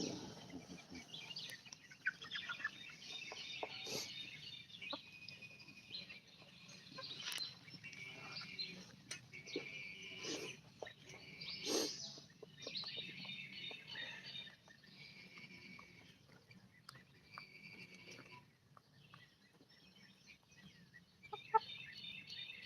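Chickens and a rooster on a backyard chicken farm give soft clucks and calls at a low level, scattered over a faint background with occasional sharper sounds.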